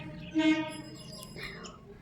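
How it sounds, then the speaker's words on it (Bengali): A distant train rumbles steadily in the background while birds chirp and tweet nearby. "দেখো ট্রেনটা যাচ্ছে বেশ ভালো লাগছে"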